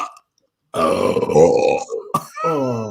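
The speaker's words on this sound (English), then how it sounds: "dude, we're burping in unison" Two people burp together in a loud, drawn-out, guttural belch lasting over a second, close up, followed by a short exclamation and another voiced burp-like groan.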